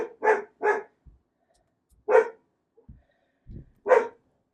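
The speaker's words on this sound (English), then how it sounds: "sorry about my dogs" Dogs barking indoors in separate sharp bursts, a quick double bark, then a pause, then two more single barks, loud and close with quiet gaps between.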